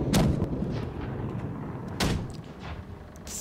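In the Blackwake pirate game, a ship-mounted swivel gun fires at an enemy ship, giving two sharp, booming shots about two seconds apart over a low background, with no one speaking.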